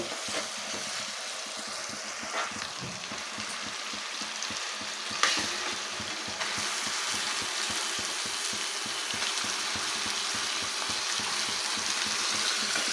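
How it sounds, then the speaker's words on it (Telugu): Chicken pieces go into a pan of fried tomatoes for a village-style chicken curry, setting off a steady close sizzle with stirring scrapes, which grows louder and denser after the meat lands; no one talks. "ఇప్పుడు మనం కడిగి పెట్టుకున్న చికెన్ అయితే వేసుకోవాలండి"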